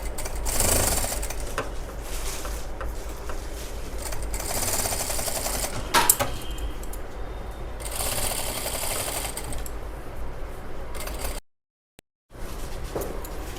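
Rapid mechanical chatter of a sewing machine stitching along a line on a kids' lehenga during alteration, running in bursts with brief pauses and a sharp cut to near-silence near the end, with no voices.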